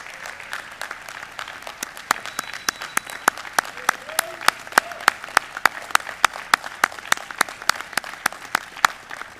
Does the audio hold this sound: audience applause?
yes